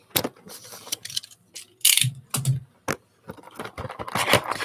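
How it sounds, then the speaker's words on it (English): A cardboard box is sliced open with a blade during an unboxing, giving short scraping cuts and crinkly tears in quick bursts, close and fairly quiet, with light rustling between strokes. "Trying to see where I can cut the box open."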